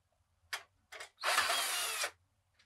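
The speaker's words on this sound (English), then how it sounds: "We can just basically use our screwdriver." A screwdriver works on computer case fan screws, giving two short ratcheting bursts followed by a longer, louder whirring grind, all close up in an otherwise quiet room.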